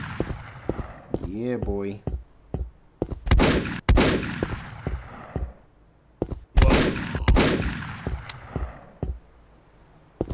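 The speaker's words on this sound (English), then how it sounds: "Just running around, just shooting zombies." Gunfire from shooting zombies in a Call of Duty Nazi Zombies fan game: loud bursts of shots in several clusters, close and sharp, with a player speaking briefly between them.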